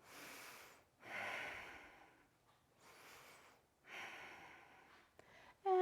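Slow, deliberate breaths held in a yoga warrior pose with eagle arms: three long, airy exhalations in a steady rhythm, close and soft, with quiet gaps between them and no talk.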